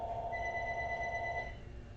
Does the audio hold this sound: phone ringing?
yes